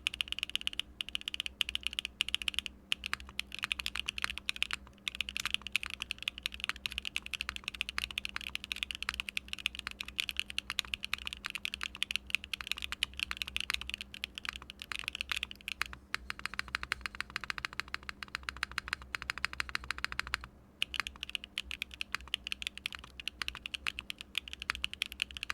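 Steady, fast typing on a Mode Encore mechanical keyboard fitted with a GMK spacebar, close and continuous with crisp, even keystrokes throughout.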